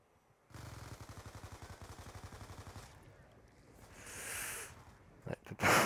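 Rapid burst of automatic gunfire in a prison-themed shooter game, a steady rattling volley lasting a few seconds, followed by a swelling hiss and a couple of sharp closing shots.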